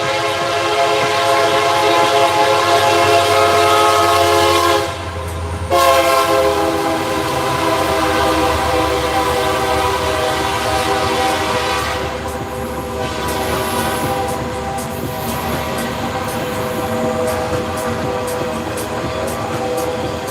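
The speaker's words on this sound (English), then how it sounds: "Y'all know the train got to have its turn." A train rolls past close by, loud and continuous, with its horn sounding in long, steady blasts and a brief break partway through, and no voices over it.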